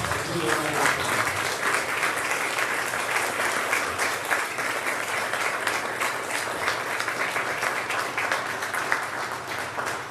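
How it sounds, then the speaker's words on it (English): An audience at a college graduation ceremony applauds the graduates in a sustained, dense roar of many clapping hands. The clapping holds steady and loud throughout, with faint crowd voices mixed in. "Let's clap some more."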